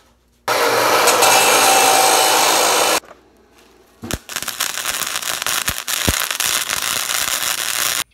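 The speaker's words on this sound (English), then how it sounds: "Time to go cut some metal." Power tool cutting steel tube for Harley-Davidson themed decor: a loud, steady broadband cutting whine runs for a few seconds, stops, then returns as a second long cut with sharp clanks and knocks, no speech.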